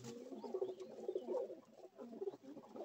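Pet pigeons in a home loft, with small chicks among them, give a steady low throbbing coo in several overlapping rounds, close by and fairly quiet, with no talking.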